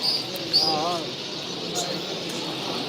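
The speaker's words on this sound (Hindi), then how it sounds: "चिड़ियाँ सारी तोते आते" Parrots and other birds give a few short chirps and warbling calls near the start, followed by quieter sounds over steady ambient hiss, with voices present.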